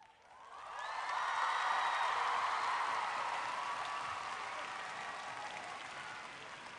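Sustained audience applause at a speaking event, swelling quickly and holding steady before easing slightly, a dense wash of many hands with a few faint whoops mixed in.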